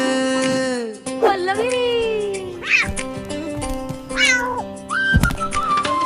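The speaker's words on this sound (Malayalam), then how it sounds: "പൂച്ചേ മ്യാവോ" A few drawn-out, wavering cat meows rise and fall over sustained musical tones of a children's song, sounding sing-song and close.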